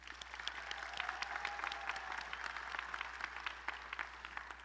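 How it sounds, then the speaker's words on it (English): An audience at a university College of Engineering commencement ceremony applauds with steady, fairly faint clapping that carries on without a break, heard from a distance in a large hall. "Please give the College of Engineering leadership team your applause."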